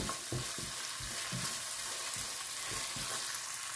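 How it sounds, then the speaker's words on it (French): A spoon stirs Senegalese tomato chili sauce in a non-stick pot, making soft scraping strokes in a loose rhythm over a continuous low sizzle, close by with no voices. "on remue quand même pour que la cuisson soit bien répartie"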